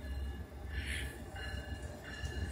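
A Nittany and Bald Eagle freight train with two engines passes through Lock Haven after dark, a low, faint rumble of rolling railcars with light rhythmic wheel clatter and a brief higher squeal, no voices over it.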